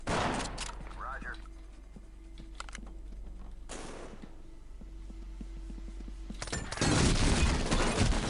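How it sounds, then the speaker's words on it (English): Gunfire in the tactical shooter game SWAT 4 comes in loud, dense bursts of rapid shots with short gaps between them, while someone talks over the action. "I bloody shot him right in front of me and I still missed him"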